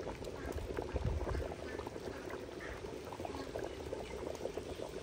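A large pot of beef paya (trotters) boils vigorously, thick bubbles popping and gurgling continuously up close, with no voices.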